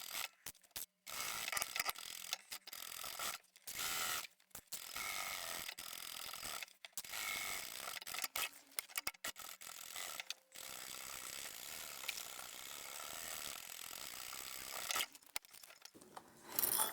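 A sewing machine stitches the bottom edge of a tea towel tote, running in steady mechanical bursts broken by short pauses, close and fairly loud with no talking.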